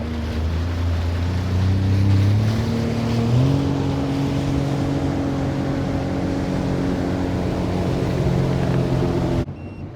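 A Sea-Doo Fish Pro personal watercraft cruises over a sandbar, its engine a steady close drone that rises in pitch partway through, with water rushing beneath and no talking.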